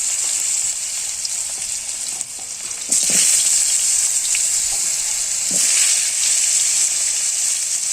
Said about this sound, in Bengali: এবার আমি দিয়ে দেব আগে কেটে রাখা আলু